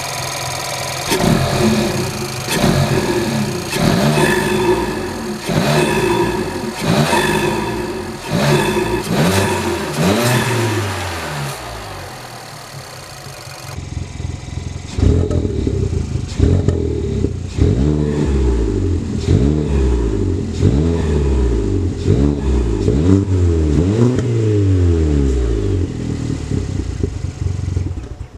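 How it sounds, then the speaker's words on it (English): A 1.2 TSI Seat Ibiza FR engine, jacked up, revs repeatedly under load, rising and falling in pitch in quick cycles, loud and close, with a scratchy rattle beneath. "we will jack this up and we'll let you hear the car under load"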